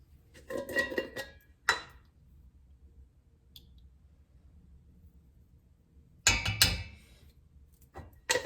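A metal teaspoon clinks against a cooking pot while pepper and turmeric are added to a harira soup: short clattering bursts near the start, a sharp tap, a long quiet pause, then another loud clatter near the end.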